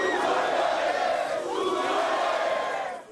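Hundreds of football fans gathered at Salgado Filho airport to see off a new idol, a loud dense crowd roaring and chanting together in a continuous swell that fades at the end.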